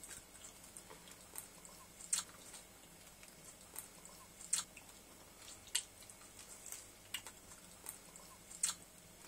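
Quiet, close-up chewing with soft, irregular crunchy bites and wet mouth clicks spread across the stretch, with no voices.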